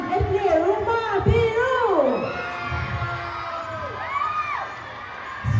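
Crowd of students cheering and whooping at a school sports day, loud shouts and high children's yells rising and falling through the stretch, with an announcer's voice mixed in.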